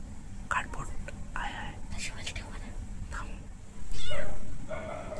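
A rescued street cat meows softly in short calls at night indoors, mixed with whispered talk and quiet household noise.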